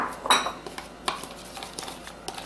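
Parsley and minced garlic being mixed in a bowl for bruschetta, heard as light clinks and taps of a utensil against the bowl, one sharper knock near the start, close and fairly quiet.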